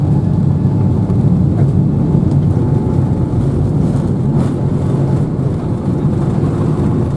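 Turkish Airlines airliner at Istanbul taxiing onto the main runway before takeoff for Chicago, heard from inside the cabin as a steady, loud low engine rumble and hum that runs unbroken throughout, with no talking.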